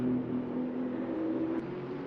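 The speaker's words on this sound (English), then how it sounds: "Seated in a Mercedes AMG GT3 Evo from 2020." A 2020 Mercedes AMG GT3 Evo race car in a racing video game, its engine holding a steady, droning tone at fairly constant revs, with a slight pitch shift near the end and no talk.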